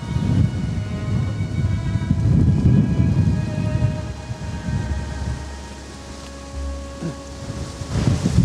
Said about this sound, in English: Here's the wind, here's the storm.